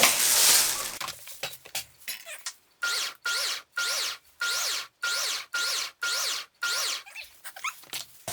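Salsa ingredients chopped in a Vitamix food processor, about eight short whirring pulses in an even rhythm, each roughly half a second long with brief pauses between, close up, after a burst of rustling and clinking at the start.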